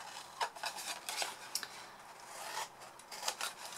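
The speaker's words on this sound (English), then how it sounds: "we're going to cut away this bottom square here," Scissors snip through card while a fan-top gift bag is being shaped, giving a few short crisp cuts with rustling in between, quiet and close with no talking.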